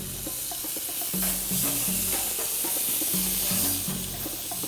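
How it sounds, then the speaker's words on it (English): Veal chops sizzle and crackle steadily on a grill with V-shaped grates, a dense close frying hiss with low pops, alone without talk. "That means it's time to turn the chops over"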